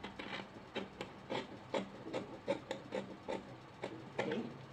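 Scissors snipping through fabric while trimming the center of a handkerchief-style top, a steady series of close, crisp cuts repeating about twice a second with no talking.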